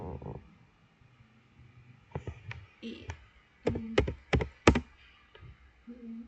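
Keys tapped on a computer keyboard in scattered, distinct clicks, with a tight cluster of louder presses near the end, alongside brief moments of speech.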